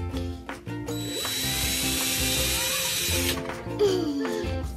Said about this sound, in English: you're drilling that screw in there